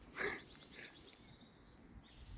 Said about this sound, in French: Et regardez, les petits oiseaux. Enfin, écoutez plutôt.